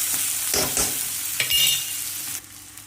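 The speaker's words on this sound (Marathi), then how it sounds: "कांदा 1-2 मिनटं भाजून घ्यायचा, कलर चेंज होतो" Onion fries in a pan with asafoetida for a beetroot curry, a steady close sizzle broken by a few scraping stirs.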